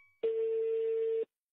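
A telephone call being placed gives a single steady electronic tone lasting about a second, clean and loud, with silence around it.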